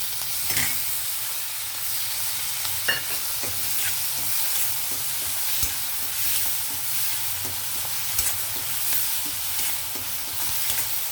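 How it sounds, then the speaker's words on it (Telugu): Tomatoes and onions frying in a pan give a dense, even sizzle with repeated stirring scrapes and occasional taps, close up and uninterrupted by any voice. "ఉల్లిపాయలు చక్కగా వేగాయి కదండి ఇప్పుడు టమాటా వేసేద్దాం"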